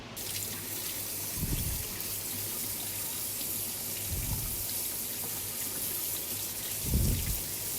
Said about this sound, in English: So I just take them to the water and wash them all.